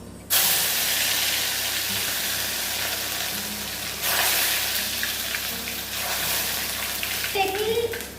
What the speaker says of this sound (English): now we are going to add the tadka here